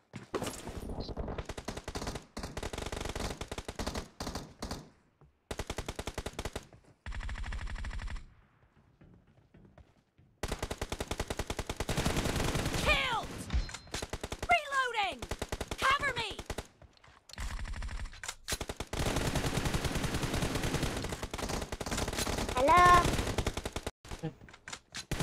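Rapid automatic gunfire in a multiplayer shooter game, long bursts of fast rattling shots broken by short silent gaps, steady and loud, with occasional in-game voices and chatter mixed in.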